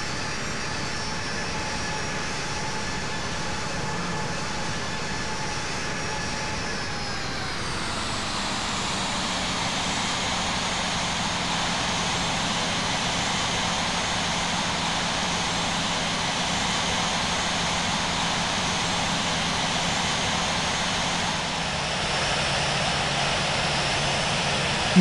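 An airliner in the Infinite Flight simulator taxis to parking at San Francisco, its jet engines producing a steady, loud whine and rumble that drops in pitch partway through, then holds constant.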